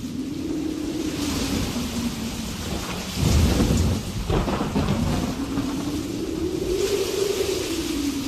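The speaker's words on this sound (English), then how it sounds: "the rain lashed against the windows, and the wild wind howled angrily through the trees and down the chimney" Thunder rumbles through steady heavy rain on a stormy night, a loud crack and roll building in the middle, with a whooshing wind-like swell rising and falling throughout, no voices.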